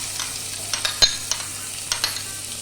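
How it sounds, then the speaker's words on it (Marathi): Chopped onion frying in about two teaspoons of hot olive oil, a steady sizzle with a few scraping stirs of a spoon in the pan, close up and without talk. "तेल गरम झाल्यावर आपण हा जो चिरलेला कांदा आहे तो त्यात घालायचा आहे"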